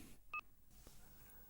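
A telephone rings with a call from Pallavi in a Marathi TV serial scene. It gives one short, clear electronic two-tone beep over a quiet room background.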